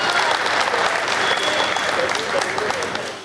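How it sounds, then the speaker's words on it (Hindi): Brisk, loud applause from the audience at a Hindi comedy poetry show, a dense even clatter of many hands that tapers slightly at the end. "तालियां एक बार ढंग से बजा दीजिए मेरे सम्मान में।"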